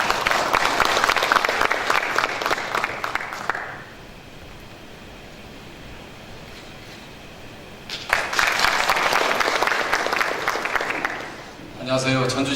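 A crowd at a public legislative hearing in a Korean university hall claps warmly to welcome a city mayor. The loud applause comes in two bursts with a quiet gap between them, and a voice begins at the end.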